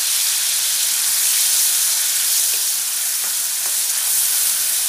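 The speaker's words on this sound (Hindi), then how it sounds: "ऑयल हमारा गर्म है। अब हम इसमें मिला रहे हैं अनियन" Chopped onions fry in hot oil with a steady, loud, even sizzle and hiss that runs without a break.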